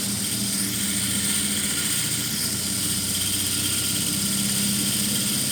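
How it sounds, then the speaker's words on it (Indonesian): A permanent magnet single-phase generator rotor spins up to 1300 rpm with a continuous, dense mechanical whir and hum at a steady, loud level, with no speech. "Dia untuk putaran dari si rotor dari generator ini semakin cepat ya, karena dia RPM-nya naik."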